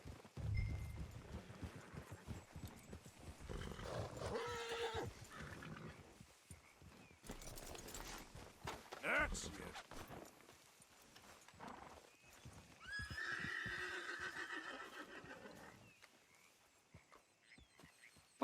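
Horses in Red Dead Redemption 2 snort, neigh and clop their hooves in bursts, near and fairly loud, with gaps between sounds and a brief spoken phrase.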